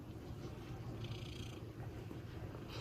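A cat purrs close by in a quiet room, a soft, steady low rumble running unbroken through the moment with no voices over it.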